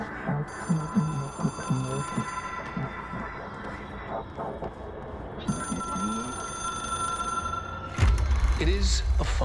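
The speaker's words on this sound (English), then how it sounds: "Telephone." A telephone rings in the game Control, with repeated bell-like trills in bursts that continue under a man's speech, followed by a louder low rumble near the end.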